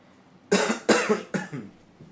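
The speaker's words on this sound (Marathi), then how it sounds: "खोकला आणि सर्दी झाली ना की खूप गायस त्रास होतो" A man with a cold coughs three times in quick succession, loud and close, each burst harsh and followed by a short rattling tail, with no talk over it.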